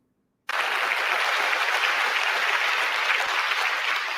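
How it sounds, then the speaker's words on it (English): Audience applause fills a TEDx talk venue, breaking out suddenly and holding as steady, dense, loud clapping from a large crowd until the end. "what are we clapping for?"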